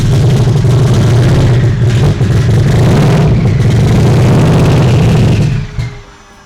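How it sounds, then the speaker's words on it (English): A Subaru WRX drag car, left sitting for 15 years, revs loudly on ether with the throttle held open, a steady rough low roar that holds for over five seconds and then cuts out abruptly. "I can't tell if it's trying to run on the fuel or if it's only running on the ether."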